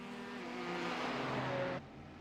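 Race cars in an IMSA race at Circuit Gilles-Villeneuve roaring down the back straight, a loud sustained engine whine that builds, then cuts off abruptly to a lower drone.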